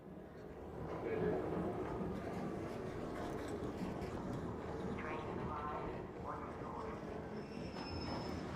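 A train in the video game Arc Raiders rumbles along continuously, its heavy rolling roar steady and loud, with occasional high wheel squeals over the top.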